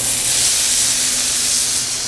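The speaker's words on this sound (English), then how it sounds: "we want a good solid char on the octopus" Octopus sears in a hot dry pan over high heat, giving a loud, steady hiss and sizzle with no voices.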